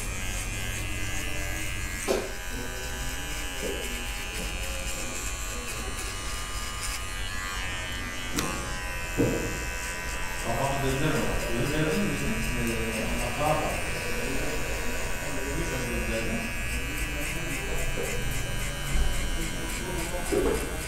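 An electric hair clipper buzzes steadily and close while cutting a high skin fade in a barbershop, the even hum shifting slightly as it passes over the hair, with someone speaking over it.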